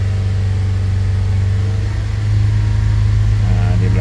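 A Toyota Innova Reborn's engine revs with a deep exhaust roar, building in a steady, loud drone that swells slightly toward the end, with a voice talking over it.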